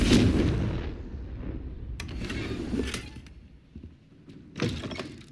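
Confringo spell blasts in the Hogwarts Legacy video game land as booming, thudding explosions, a sharp burst near the start followed by several fainter impacts and a final loud crack, with no speech over them.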